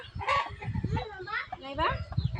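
Chickens cluck and a rooster crows at close range in a home yard, with a voice calling out faintly underneath the bird calls.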